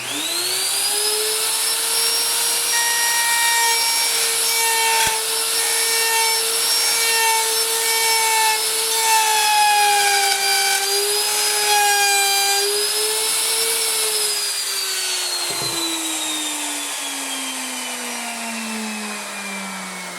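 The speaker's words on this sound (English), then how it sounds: "where this is still ramping up to speed and then start cutting, this router is going to be jumping all over the place" A wood router whines at high, steady pitch as it cuts a dovetail lap joint in wood, loud and close, with the motor pitch wavering under load and then winding down near the end.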